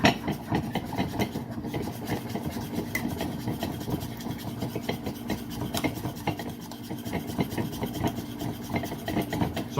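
A spoon scraping and rubbing steadily as cream is stirred by hand in a bowl to whip it, a continuous close gritty swishing that lasts throughout without pauses.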